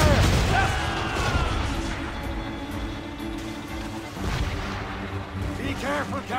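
Ship cannons fire in Assassin's Creed Rogue video game in a loud, rolling barrage of heavy booms and crashes at sea, with a voice calling out over the bombardment.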